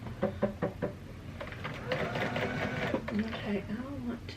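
Bernina 180 sewing machine running a stay stitch, a close, rhythmic mechanical knocking and whirring, with a person talking over part of it.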